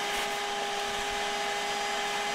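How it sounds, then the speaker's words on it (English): A vacuum cleaner sucks up dead yellow jackets from the floor of an infested house, a loud, steady whining roar held throughout with no talking. "dead corpses and things on the ground, so I vacuum them up and get them out of there"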